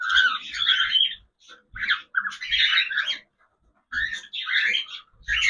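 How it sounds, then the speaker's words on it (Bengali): Cockatiel and young Java sparrows chirp and squawk while eating at feeding time, with near, bright repeated calls coming in bursts separated by short pauses. "আবার দেখলে দেখতে পাচ্ছেন ককটেল পাখিটা কিরকম করছে"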